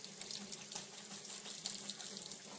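Tap water runs steadily into a sink while a paint brush is rinsed, a quiet continuous splashing hiss with small irregular spatters.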